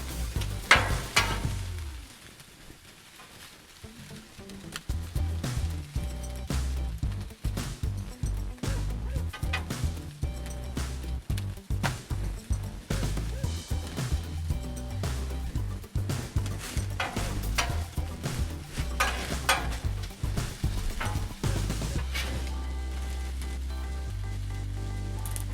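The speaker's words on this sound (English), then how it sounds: "So I can lower the temp just so I can get my eggs and my tortilla" Eggs and a tortilla cooking on a Blackstone griddle for a carne asada breakfast burrito, with a constant close sizzle broken up by frequent scraping and tapping of a spatula on the steel surface.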